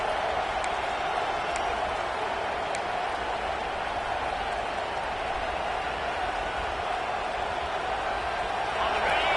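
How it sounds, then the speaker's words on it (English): A dense, steady roar of a large stadium crowd at a Tennessee versus Texas football game fills the space, loud and unbroken, with faint talk blended in. "This crowd is trying to inspire this defense to make a big red zone stop."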